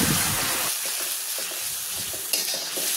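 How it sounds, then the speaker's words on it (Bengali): Spice masala fries in oil for a garlicky beef bhuna, a dense, continuous sizzle with scraping stirring strokes, close and steady throughout. "এবার মশলাটাকে ভালো করে কষিয়ে নেব যতক্ষণ না তেলটা ভেসে না ওঠে"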